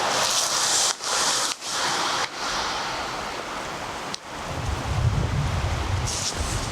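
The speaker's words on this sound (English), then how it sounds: "I think you can hear more winds" Strong wind sweeps across a frozen lake with melting ice on a bog and forest hike, a steady roar buffeting the microphone with a few brief drops and heavier low gusts near the end, with no talking.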